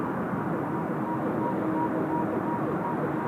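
An airliner at Seoul Incheon Airport, heard as a faint, steady, distant engine roar with a broad, even rumble and no clear change in loudness.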